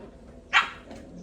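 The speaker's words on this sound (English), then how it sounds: "Oh, these are puppy dogs. These are little guys. Hey, both of you! They're fighting over a bone. As dogs do." Puppies fighting over a bone let out a single short, sharp bark close by, with a quieter yip trailing just after.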